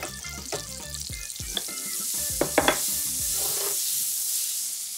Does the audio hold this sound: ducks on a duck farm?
no